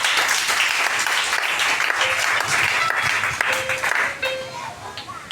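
A church congregation applauding in praise, dense sustained clapping from a crowd filling the room, tapering off toward the end.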